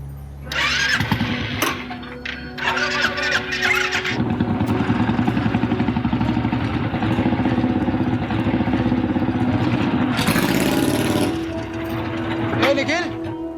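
A new motorcycle engine fires up and settles into a steady, rapid idling putter that runs for several seconds, with people talking over it and other loud bursts of noise at the start and near the end.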